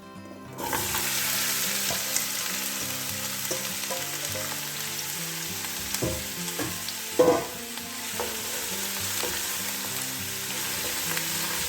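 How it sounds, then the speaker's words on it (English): Onions for French onion soup hit hot oil in a pot, a sudden loud sizzle that settles into a steady, even hiss, with a few stirring knocks and no speech. "Just go in with a little bit of oil. Then go straight in with your onions."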